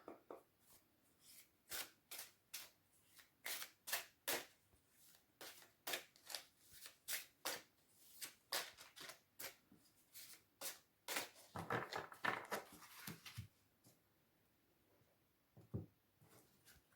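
Tarot cards are shuffled for a card reading in a quick, regular series of soft riffling slaps, close and fairly faint, carrying on for most of the stretch with no talking.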